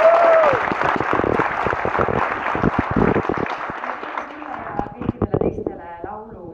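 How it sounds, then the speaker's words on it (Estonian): An audience gives loud applause, dense clapping that thins into scattered individual claps toward the end, with speech-like sounds mixed in throughout. "ja tehke suur aplaus"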